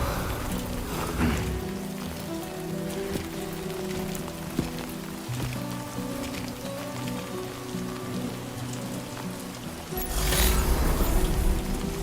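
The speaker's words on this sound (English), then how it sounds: "Always raining." Steady rain pours down in the Death Stranding 2: On the Beach game, a dense hiss of drops over low ambient music, swelling louder near the end.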